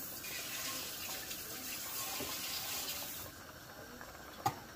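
Tap water runs steadily into a sink while the tops of store-bought cans are rinsed, a close, even rush that drops slightly near the end, with a single clink at the finish.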